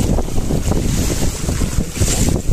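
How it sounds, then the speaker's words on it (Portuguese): Strong wind roars steadily across the sea around a fishing boat in rough, dangerous waves, a loud continuous rush of wind noise and water with no voices. "muito vento mesmo, hoje pela manhã"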